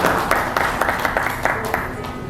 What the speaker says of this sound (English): Let us please invite Ms. Archana Gulia on stage with a round of applause